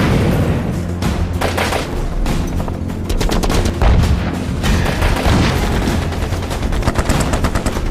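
Heavy gunfire at close range in an Afghan firefight, as rapid automatic bursts and sharp cracks come thick and loud throughout and overlap with heavier booming reports.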